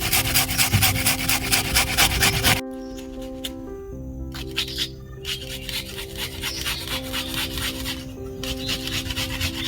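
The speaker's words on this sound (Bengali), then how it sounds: "এবার একটা ছোট সাইজের পেঁয়াজ নিয়েছি পেঁয়াজটাও ঘষে নেব" A small onion is rubbed across a kitchen grater in quick, rhythmic rasping strokes, close and fairly quiet, with a short pause partway through before the scraping resumes; no one speaks.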